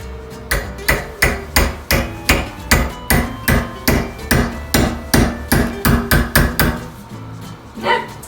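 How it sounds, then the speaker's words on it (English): A hammer striking metal shelf supports to straighten them for a floating ledge shelf, about fifteen sharp, evenly spaced blows in a steady rhythm, close and loud, with no talking. "I'm going to try to straighten it a little bit with a hammer."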